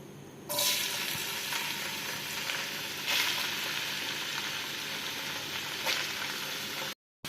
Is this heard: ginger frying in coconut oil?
yes